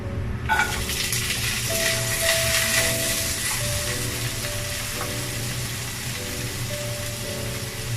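Dried loitta fish drops into hot oil in a pan on the stove and fries with a steady, close crackling sizzle that holds for the whole stretch.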